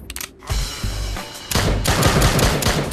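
Gunshots in a shooting video game, a few sharp single shots followed by dense, loud rapid fire that keeps building toward the end, heard up close with no talking.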